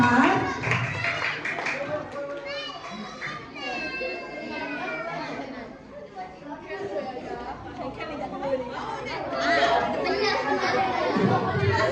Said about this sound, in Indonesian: Berikan tepuk tangan yang meriah pada juara kelas 4.